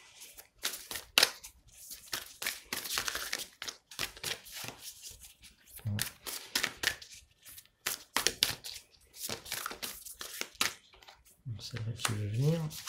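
Oracle cards are shuffled by hand in dense, papery riffles and rustles throughout, close up, with a person speaking over the handling.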